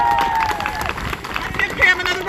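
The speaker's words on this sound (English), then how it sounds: "Give Pam another round of applause." Crowd at an outdoor rally and birthday celebration applauding a speaker, a brief burst of mixed clapping and crowd murmur at moderate distance.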